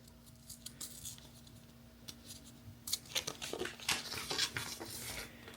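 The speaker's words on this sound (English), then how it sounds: "You're going to take your second roll, again in the dark, and then you're going to unwrap it." A roll of 120 film being unwrapped in the dark, with crinkly tearing and rustling of its paper backing coming in short bursts that grow busier and louder toward the end, close by, with no talking.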